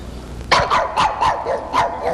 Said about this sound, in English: say bark, doggy, say bark